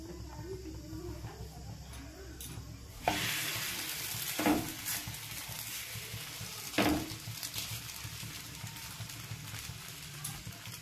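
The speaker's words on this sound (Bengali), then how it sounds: "আর বাকিটাও আমি ভেজে নেব।" Rolled flatbreads for chicken rolls frying in oil in a pan, a steady close sizzle with a few louder bursts and scraping clatters as the bread is turned and moved.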